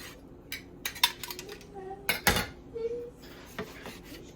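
A knife slicing through a reverse-seared NY strip steak, giving scattered short scraping strokes and sharp clinks of metal against a plate or board, close up and irregular.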